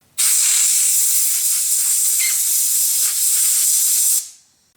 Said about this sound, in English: I'm going to blow them out and give them one last rinse.